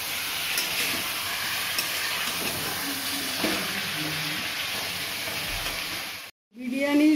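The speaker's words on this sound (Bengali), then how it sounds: "আমাদের মাংস কষা চলছে" Chicken sizzles as it is sautéed in a pan for chicken biryani, giving a steady close hiss with faint stirring that drops out briefly near the end.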